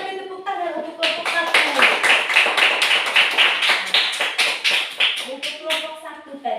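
Classroom applause for a student group after their presentation, a burst of many hands clapping at a steady, dense rhythm for several seconds, with a voice speaking at the start and end.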